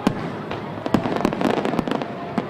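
Fireworks burst at the Riverfest celebration on the Cincinnati waterfront, a rapid series of sharp cracks and pops with crackling in between, loud and irregular.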